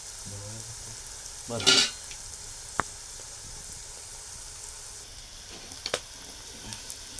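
Turmeric and masala stirred into a sizzling pan for a Marathi-style valpapdi bhaji, a soft steady fry hiss broken by a louder scrape and a few sharp clinks of the spoon, with a brief spoken word.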